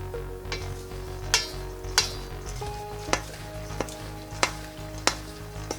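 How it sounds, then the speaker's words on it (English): Tabbouleh salad with pomegranate and lemon dressing being mixed in a bowl, soft wet tossing sounds punctuated by about eight sharp clinks of a utensil against the bowl at a steady pace, close and without talk. "Let's give it a little quick mix."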